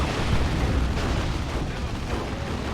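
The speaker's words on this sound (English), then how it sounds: "I need to chuck their incendiary." An incendiary grenade going off in the game Dawn of War 2, a dense, roaring burst of fiery crackle and rumble that fills the whole moment and slowly fades.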